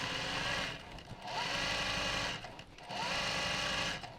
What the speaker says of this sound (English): So I'm going to sew all these lines in now.